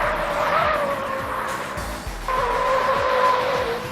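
A 2012 heavy-duty pickup, one of a Chevrolet Silverado 2500, Ford F-250 Super Duty or Ram 2500, is pushed through a turn, its tires squealing loudly in two sustained wavering screeches over engine noise.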